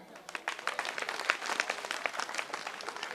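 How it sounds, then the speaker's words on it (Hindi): An audience at a school Republic Day function breaks into loud, sustained applause, with dense overlapping claps of steady intensity throughout. "मैं चाहता हूं कि जोरदार ताली बजाकर इनका सम्मान कर दे।"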